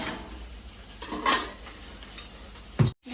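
A spoon scrapes and clinks against a pan while chicken pakodi mixture with chillies is stirred, with a few soft scrapes, one brighter clatter in the middle and a sharp knock near the end.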